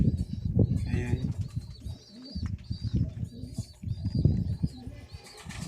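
Pigeons coo in low, throaty murmurs, with chirps and occasional wing flutters mixed in, close by and continuous.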